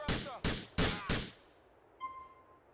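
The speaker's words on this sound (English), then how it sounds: "Blind fire." Four sharp gunshots in quick succession from blind fire in Grand Theft Auto 4, each burst loud and close with a short ringing tail, followed by a faint tonal beep.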